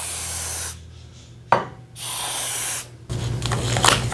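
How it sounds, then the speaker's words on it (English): Aerosol lubricant sprayed onto a garage door in short hissing bursts, three separate sprays broken by pauses and a sharp knock, the last burst mixed with rubbing and handling noise. "I'm just gonna go and spray it down like so."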